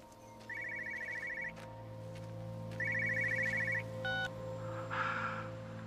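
Telephone ringing in a quiet scene of the game Everybody's Gone to the Rapture, two trilling electronic rings separated by a pause, heard over a low ambient hum with a faint tone and a soft swoosh afterward.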